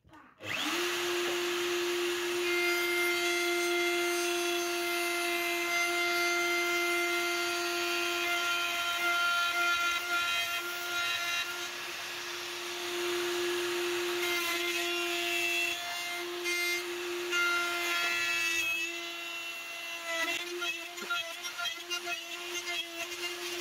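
Router running steadily through wooden workpieces on a dovetail jig, a loud sustained high whine with a strong steady tone, holding near and constant for over twenty seconds with slight dips as the bit cuts.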